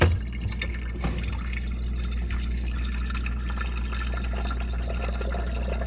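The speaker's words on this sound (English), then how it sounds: "I'm gonna get some water." Water running steadily into a container while cooking with a Thermomix, a continuous close trickling and splashing hiss that holds even after a brief initial clunk.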